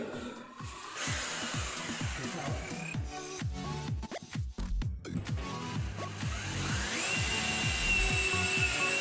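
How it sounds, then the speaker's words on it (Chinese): A power drill set to non-hammer mode bores a hole while a 20A switch is being wired, its motor whining continuously and shifting speed, close to the microphone with no talking. "我们拿那个机器，我们拿回这家钻洞机"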